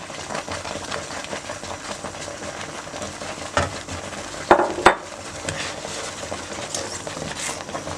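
A spoon scrapes and stirs through semolina halwa in a pot as ghee is poured in. A constant low sizzle and patter runs underneath, with a couple of sharper clinks of metal on the pan.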